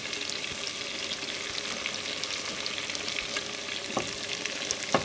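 Green salsa scraped into a pot of pork for chile verde, with steady sizzling and frying throughout and a few sharp utensil scrapes and knocks near the end; no talking.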